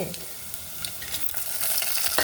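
Dried red chillies crackle and sizzle in hot oil as a tempering for traditional raw coconut dal, a steady close frying hiss with light stirring scrapes, swelling slightly toward the end.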